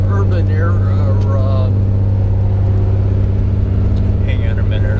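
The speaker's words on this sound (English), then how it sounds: "I'm passing a truck" A car driving past a truck on the road, engine and road rumble humming loud and steady inside the cabin while someone talks over it throughout.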